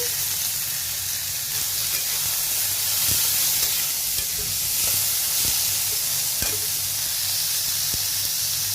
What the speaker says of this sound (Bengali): গাজর কুচি, ভালো করে নেড়ে চেড়ে একটু ভেজে নিব।